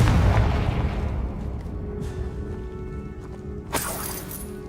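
A magical blasting spell goes off as one loud, boomy burst at the start, with a low rumble trailing away and a sharp crackling flash near the end.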